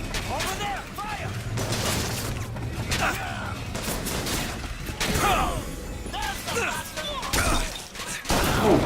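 Gunfire from a BioShock Infinite firefight, dense bursts of shots and impacts crackling throughout, layered with chaotic combat noise and voices shouting over it.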